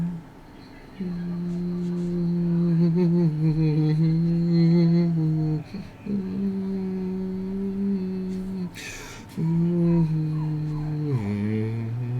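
A puppy whines and howls in long, wavering, sustained cries, sometimes rising, with brief pauses between them. It sounds close, loud, and alone in the room.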